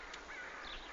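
A sick jackdaw held in the hand gives a short, faint, harsh call, close by but very quiet, with no voices.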